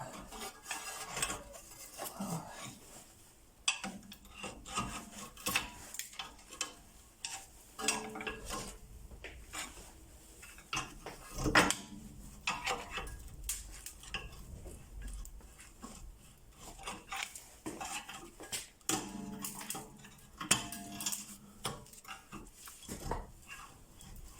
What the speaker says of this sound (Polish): Dobra, pomęczyłem ten zacisk taką breszką jeszcze.